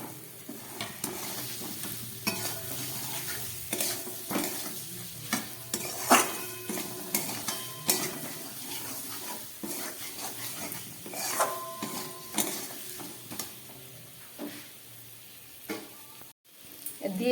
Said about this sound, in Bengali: এবার আমি আলুগুলোকে দিয়ে দিচ্ছি ভেজে রাখা